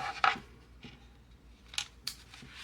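Scissors snip in quick, isolated bursts while binding an art booklet with a Coptic stitch, a close cluster of crisp cuts at the start followed by a few sparser, fainter snips.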